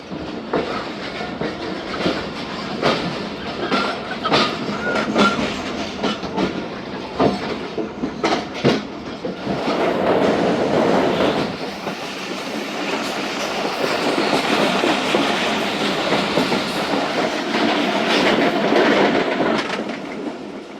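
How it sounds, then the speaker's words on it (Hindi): A Pakistan Railways train, the 47 Up Rehman Baba, departing a station at night, loud wheels clattering over rail joints in irregular beats before a smoother steady rumble takes over. "ट्रेन आई पनो आकिल और 2 मिनट स्टॉप के बाद हो रही है रवाना"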